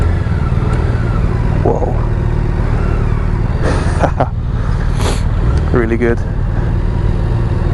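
A 2024 BMW K1600GT motorcycle engine accelerating with a smooth, turbine-like whine, loud and steady throughout beneath wind noise, with a rider's brief exclamations on top.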